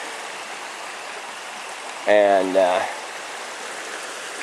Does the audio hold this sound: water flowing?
yes